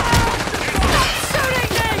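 Rapid bursts of video game gunfire crackle continuously through a shooter match, dense and loud throughout with a voice faintly mixed in.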